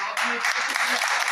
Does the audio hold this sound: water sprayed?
no